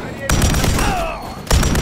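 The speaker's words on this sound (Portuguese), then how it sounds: "olha o barulho dessa arma" Loud close gunfire from a weapon in Modern Warfare 3, a heavy blast that rumbles on, followed by a second sharp shot near the end.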